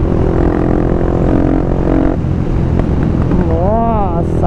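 A 160 Start motorcycle fitted with a 410cc engine roars loud and close as it accelerates, its pitch climbing and wavering with each rev, with a constant rushing drone throughout.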